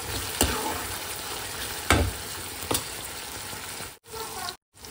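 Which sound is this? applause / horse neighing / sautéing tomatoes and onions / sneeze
sautéing tomatoes and onions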